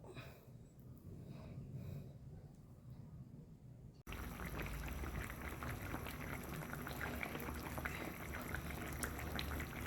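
Water boils hard in a pot for salted fish curry, a dense steady bubbling and rumbling that grows suddenly louder partway through and stays constant.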